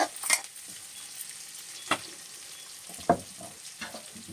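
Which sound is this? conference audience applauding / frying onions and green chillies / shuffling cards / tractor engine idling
frying onions and green chillies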